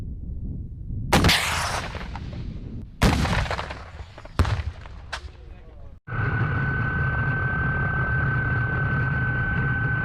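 Kornet anti-tank guided missile firings by reserve troops: several sharp, loud blasts at irregular intervals, then a sustained loud roar with a steady whine, close by.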